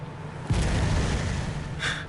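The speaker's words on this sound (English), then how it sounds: "Cannons." In Bloodborne, a single deep cannon boom hits suddenly, followed by a heavy rumbling roar that fades slowly, with a brief hiss near the end.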